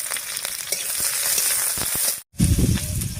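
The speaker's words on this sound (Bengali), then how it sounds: "এবার তেলের মধ্যে দেবো থেতো করা রসুন আর চেরা কাঁচা লঙ্কা।" Crushed garlic and slit green chillies fry in hot oil with a loud, steady, close sizzle that cuts out for a moment, then returns with heavier crackling.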